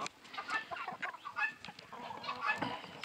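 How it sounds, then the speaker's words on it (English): A Red Ranger rooster clucks in short, repeated bursts close by, with soft background noise. "This is one of our Red Ranger roosters."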